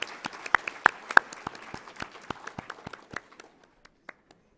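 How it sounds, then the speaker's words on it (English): Audience applause after a keynote address at a college new student convocation, starting as a loud scatter of many hands clapping and thinning into a few sparse, isolated claps as it dies away. "Let's give another round of applause to Mr. Hamlin for that dynamic, empowering keynote address"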